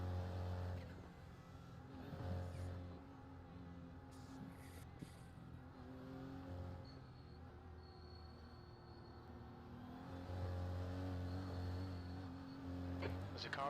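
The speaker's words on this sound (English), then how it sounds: "There's a car approaching." Engines of race cars in a Daytona endurance racing video game whine and rise as a car approaches, played fairly quietly, with faint speech from players underneath.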